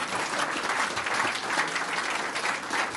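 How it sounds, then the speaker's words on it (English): A conference audience at a United Nations meeting organized by the World Wildlife Fund gives a panel sustained applause, dense steady clapping throughout. "Can I ask you to all give a final applause for this very esteemed panel?"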